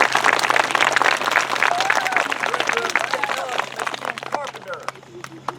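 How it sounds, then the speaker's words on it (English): Outdoor audience applause at an elementary school tower ribbon cutting, a dense burst of clapping with scattered voices and chatter mixed in and a steady low hum underneath. "give him a big round of applause"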